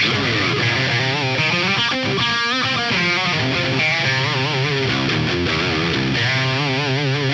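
A heavily distorted electric guitar plays a run of sustained notes and bends, thick and saturated, loud and continuous with no voices.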